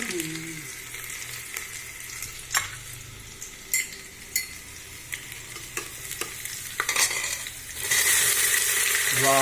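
Cumin and other kadhi ingredients sizzle and roast in a hot pan, with a steady frying hiss and repeated sharp scrapes and knocks of a stirring spoon, close up, the hiss swelling louder toward the end.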